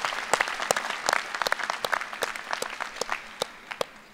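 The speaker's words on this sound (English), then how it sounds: "Give yourselves a round of applause." New students applaud at a fall convocation and pep rally, a sustained burst of crowd clapping with sharp, irregular claps standing out, steady throughout.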